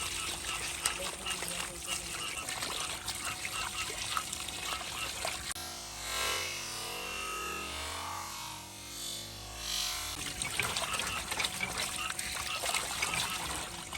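Water trickling and splashing from a broken pipe outdoors, a quiet continuous dribble that swells in the middle, with people talking around it.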